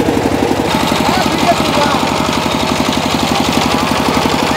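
A rice flour grinding machine starts up and runs to grind rice for making pitha, a steady loud engine-like chugging with fast regular pulses that continue throughout.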